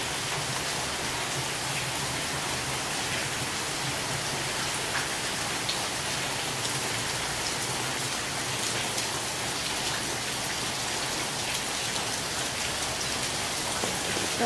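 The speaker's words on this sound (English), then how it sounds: "And you can see the rain." Rain coming down steadily on a rainy day in Antigua, a continuous close hiss of drops with scattered louder splashes, even and unbroken throughout, with no talking.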